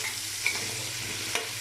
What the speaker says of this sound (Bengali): হালকা একটু হলুদ, একটু নেড়ে ফেড়ে আলুর রঙটা সুন্দর হয় আর কি